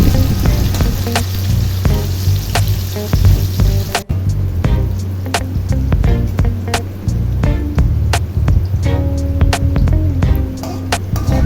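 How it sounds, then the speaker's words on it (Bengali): Cashews and raisins fry lightly in oil for Bengali-style fried rice, giving a steady close sizzle with frequent sharp pops and crackles throughout, and a brief dip partway through. "কাজু কিশমিশটাও তেলের উপর দিয়ে হালকা একটু ভেজে নেব।"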